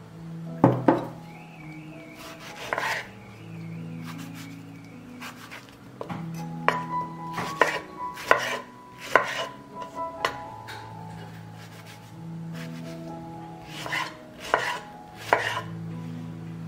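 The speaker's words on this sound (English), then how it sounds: "Now I will cut and grind a kilogram of tomatoes." A knife chops a kilogram of tomatoes on a board in a home kitchen, giving scattered clusters of sharp, close taps with short pauses between bursts, and no talking.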